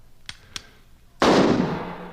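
A single loud rifle shot cracks in an audio drama set at the Alamo, preceded by two faint clicks, then decays with a broad rumbling tail.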